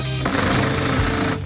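A power tool driving a lag screw with a washer to fix a metal base for a terrace riser, a loud close rattling hammer-like buzz that starts abruptly and runs steadily for about a second before stopping.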